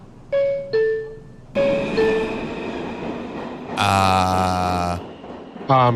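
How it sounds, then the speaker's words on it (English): A Brooklyn-bound 2 express subway train runs through the tunnel with loud rumbling and brief tonal whines and squeals, including a long sustained squeal near the end. No voices are heard over it. "Brooklyn bound 2 express train."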